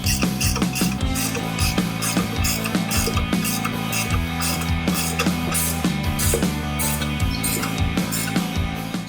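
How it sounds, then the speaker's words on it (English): A 22mm ratchet spanner tightening a front nut on a Tank 300 rig: rhythmic, close ratcheting clicks in repeated strokes, steady and fairly loud throughout. "Got my 22mm ratchet spanner. I'll just do this back up."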